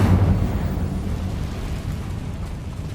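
An Incendio fire spell bursts in Hogwarts Legacy, a loud, dense rumbling roar of flame that fills the whole moment with no speech over it.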